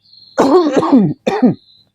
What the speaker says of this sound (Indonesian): Ini batuk, mungkin ada yang saya ya.